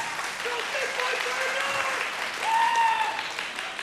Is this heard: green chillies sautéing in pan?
no